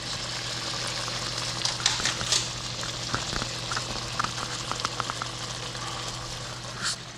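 Potatoes frying in a pan on a steady sizzle, with scattered clicks and scrapes from stirring and a low hum underneath, no talking.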